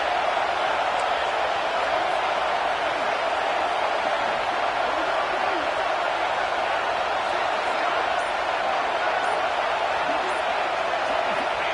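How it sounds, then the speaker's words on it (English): Football stadium crowd roaring during a third-down play in the red zone at a Clemson game, a dense, loud, continuous wall of cheering with no break. "this crowd is at fever pitch"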